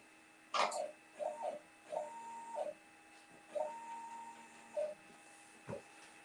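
A home-built CNC machine moves in short, separate bursts under motor control, each move a soft whirring hum with a faint clack, spaced about a second apart against a quiet steady background hum.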